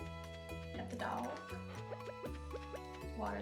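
A dog's water bowl is filled in a farming video game with short liquid pouring and dripping effects, heard over background game music.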